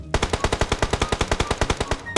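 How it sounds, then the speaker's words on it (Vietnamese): Rapid burst of about twenty evenly spaced gunshots from a DP28 light machine gun in PUBG Mobile, fired through a 6x scope, loud and close with a steady rattling rhythm and no talk, ending in one final shot after a short gap. "Mình bắn DB X6 không zoom cho mọi người xem nha"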